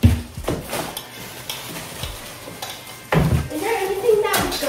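Ramen being cooked in a pot on a home stove, with scattered stirring clinks and scrapes of a utensil against cookware and a soft sizzle, close and intermittent, with voices talking nearby.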